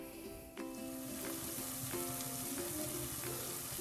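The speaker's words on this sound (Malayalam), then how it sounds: "ഈ മല്ലിയിലയും തക്കാളിയും എല്ലാം കൂടെ നന്നായിട്ടൊന്ന് വഴറ്റിയെടുക്കാം." Coriander leaves and tomato sautéing in a pan for Malabar chicken biriyani, a steady close sizzle that rises after a utensil knock near the start, with occasional stirring scrapes and clinks.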